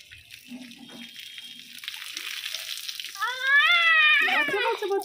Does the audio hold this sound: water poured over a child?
yes